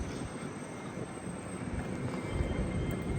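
Inside a Great Northern Class 387 train running a Thameslink service, a steady rumbling rattle of the carriage in motion swells slightly toward the end.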